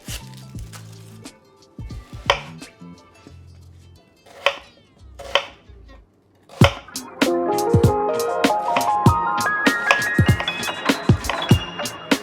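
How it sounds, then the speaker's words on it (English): A knife chops onions for homemade chicken soup, with sharp scattered cuts and thumps on a board, close and separated by pauses, followed by denser, quicker chopping and some clatter near the end. "I'm probably gonna get a little bit emotional while I cut these onions"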